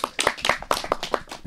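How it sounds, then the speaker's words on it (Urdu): An audience at a Pakistani children's TV show claps for a mother: a short burst of brisk, overlapping hand claps that stays fairly steady and close throughout. "ماما کے لیے تالیاں ہو جائیں بھائی"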